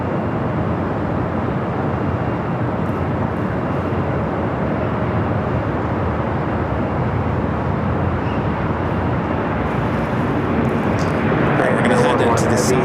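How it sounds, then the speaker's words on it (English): A Turkish Airlines airliner takes off from runway 25 right at LAX, producing a loud, sustained jet roar that stays dense and steady across the whole stretch, rising slightly near the end. "We got that Turkish E350 heading back to Istanbul, taking off 25 right."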